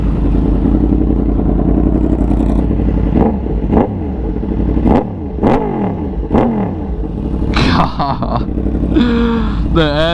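A loud Yamaha R1 crossplane motorcycle engine revs repeatedly on a highway, rising and falling sweeps over steady riding rumble, with a rider's voice breaking in near the end.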